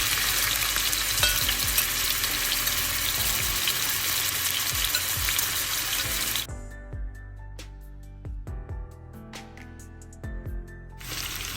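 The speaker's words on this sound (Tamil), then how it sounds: "கொஞ்சம் எண்ணெய் விட்டு இந்த மீனை பொரிச்சு எடுத்துட்டு வைக்க போகிறேன்" Fish marinated in salt, turmeric and chili powder fries in hot oil with a loud, dense sizzle. The sizzle suddenly drops to a softer crackle, with scattered stirring clicks and scrapes, then swells again at the end.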